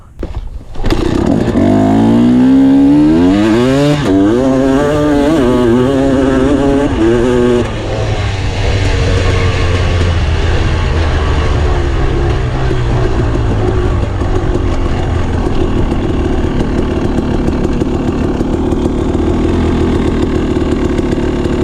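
A motorcycle fitted with a Rekluse Radius X clutch starts and revs up briefly, its pitch sweeping up and down for several seconds, then it settles into a steady, loud, close idle.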